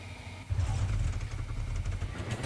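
Engines of a built vehicle in the game Scrap Mechanic run with a booster, starting with a sudden low roar after a quiet moment and then rumbling on steadily with some rattling, no talk.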